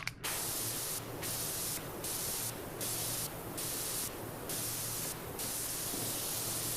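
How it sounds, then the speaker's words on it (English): A pressure washer sprays in the video game PowerWash Simulator 2, a steady hissing jet cut into several short bursts with brief pauses between them, close and fairly quiet. "I think we're good to come over here and spray some of this."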